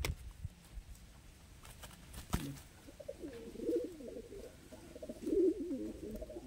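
Large fancy flying pigeons in a loft cooing softly, low repeated coos in the later seconds over faint background noise and a brief knock.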